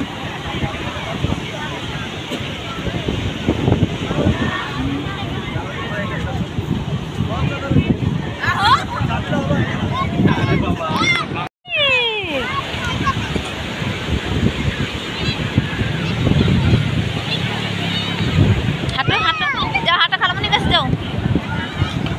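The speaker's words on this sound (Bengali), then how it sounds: "তো সমুদ্রের প্রচুর ঢেউ আর প্রচুর শব্দ, এখানে বাতাস আর বৃষ্টি কিন্তু অনেক হইতেছে" Sea waves crash continuously on the beach at Cox's Bazar while wind buffets the microphone and rain falls, with a babble of people talking throughout under the surf.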